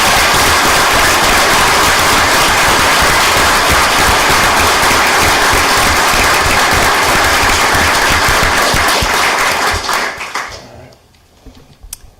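An audience at a town council meeting applauds the members of the Wethersfield Police Department during a ceremony. The clapping is loud and sustained for about ten seconds, then fades quickly to a few scattered claps.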